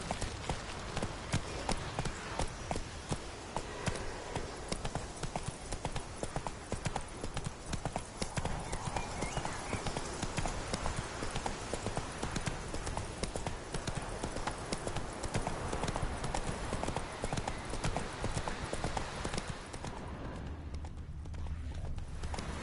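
Roach, the horse in The Witcher 3, gallops hard and continuously, with fast dense hoofbeats pounding close and loud for most of the stretch before dropping away near the end.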